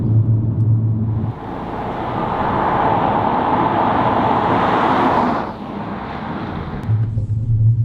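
A steady inline-four car engine drone with road rumble, rising slightly then dropping off around five seconds, with a lower idle hum at the start and end; no voices.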